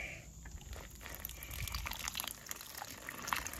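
Water is poured over a freshly potted fig cutting outside beside a garden shed. A soft, steady splashing and trickle runs for a few seconds at moderate distance, with no voices.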